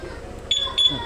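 Three short high-pitched electronic beeps from a scooter alarm's answer-back in quick succession over a low background hum, close and fairly loud.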